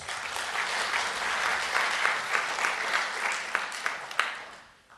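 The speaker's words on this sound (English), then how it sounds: "Let us give them a round of applause." Audience applause at a theological symposium, steady dense clapping from a sizeable crowd that holds for several seconds with a few sharper claps near the end before fading out.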